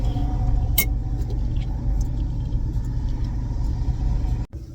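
A car engine idles with a steady, loud low rumble as it pulls up at a Dollar Tree store, a brief click near the start, then the sound cuts out abruptly just before the end.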